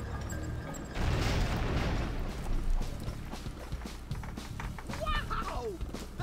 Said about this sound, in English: That explosion was awesome!